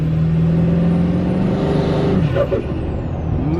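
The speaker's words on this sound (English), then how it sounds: "listen to that turbo." Tuned Duramax diesel pickup accelerating, loud and close, with a rising turbo whistle over the engine roar, then a hissing release as the revs drop.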